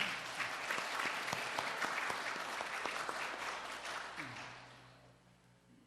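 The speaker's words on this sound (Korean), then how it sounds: "감사의 박수 한번 쳐드리면 어떨까 싶네요." A church congregation at Sunday worship claps in thanks for a guest pastor, a dense, steady wash of many hands that holds strong before thinning and fading toward the end.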